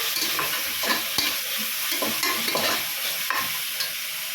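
Chopped onions fry in a pan as the base for biryani, a continuous close sizzle broken by repeated scraping strokes of a spoon stirring them, with no voices.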